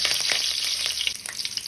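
Curry leaves hit hot oil in a pan and crackle and sizzle steadily with scattered sharp pops, close and moderately loud, with no talk.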